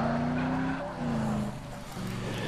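A car in the video game Dead Island Riptide drives with a steady engine drone while its tires squeal and skid in long sliding streaks, loud and close, with no talking.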